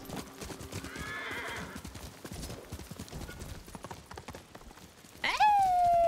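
In the video game Ghost of Tsushima, a horse's hooves clip-clop steadily and close, then the horse lets out a loud, sharp neigh that falls away near the end.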